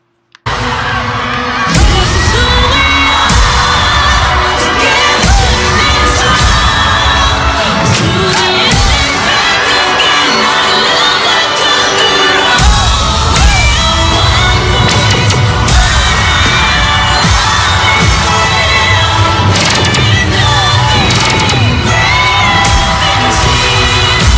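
A loud crowd at a cheerleading competition cheers, yells and whoops continuously over booming music, a dense, roaring wall of voices with sharp shouts and bangs throughout.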